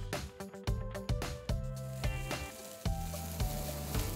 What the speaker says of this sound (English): You're gonna hear the garlic start to cook